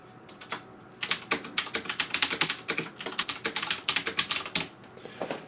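Fast, steady typing on a CM Storm QuickFire Rapid mechanical keyboard with Cherry MX Blue switches, close up and alone, a dense run of crisp clicky keystrokes with short pauses.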